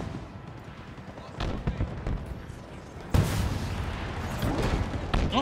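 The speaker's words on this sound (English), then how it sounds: "Oh, grenade launcher. Little boom tube." A grenade launcher fires in the sci-fi shooter Halo Infinite, sending loud, close booms and blasts amid gunfire and explosions, with one sharp heavy burst in the middle and battle noise throughout.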